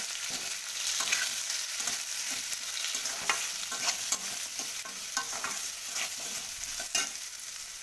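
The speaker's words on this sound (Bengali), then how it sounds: "এবার খুব ভালো করে নাড়াচাড়া করে নিতে হবে।" Red chili powder being stirred in a frying pan of katla fish curry base, with continuous close sizzling and repeated spatula scrapes and taps, no voices.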